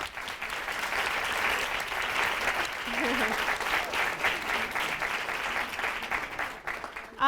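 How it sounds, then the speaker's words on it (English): Audience applause at a public policy and planning event in Los Angeles, sustained clapping from a sizeable crowd for about seven seconds, steady and fairly close, fading slightly near the end. "I want to give them a round of applause for being out here today too."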